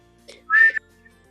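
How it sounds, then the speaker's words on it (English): Someone whistles a short, sustained note in a holiday stage production, clear and fairly loud with a brief soft lead-in before it, otherwise no talk. "You can't even whistle, my good woman."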